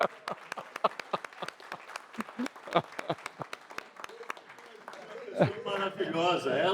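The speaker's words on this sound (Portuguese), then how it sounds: "Uma salva de palmas para a dona Didi." Audience claps in scattered, uneven bursts for an honoured older woman at a community gathering, then talk and other voices take over near the end.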